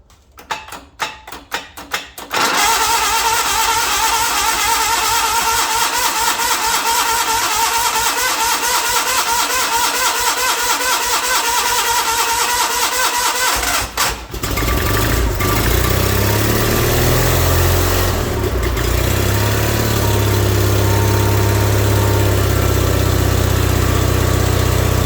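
The Onan engine of a John Deere 318 garden tractor cranks with a few rapid starter bursts, catches and settles into a loud, steady close-up idle, with a brief dip midway before it runs on.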